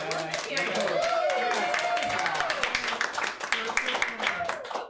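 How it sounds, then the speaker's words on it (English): A round of audience clapping at an improv comedy show, moderately close, mixed with cheering voices and some chatter over the applause. "everybody give a big round of applause for Carissa"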